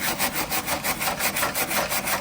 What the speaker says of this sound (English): we're gonna scuff this up.